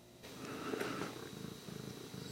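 Cat purring in a workshop, a soft rhythmic rumbling purr close by and faint, steady with gentle pulses and no talk.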